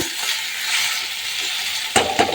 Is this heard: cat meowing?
no